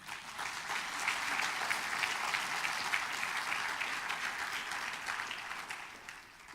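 Church congregation applauding during a Spanish-language sermon, a continuous, even roar of many hands clapping that swells and holds for several seconds before tapering slightly, heard alone without talk.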